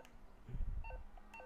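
Electronic phone dialing tones in GTA 5 Online free mode: a few short, clear beeping tone bursts over a low background game rumble.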